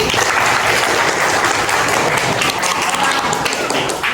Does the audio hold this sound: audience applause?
yes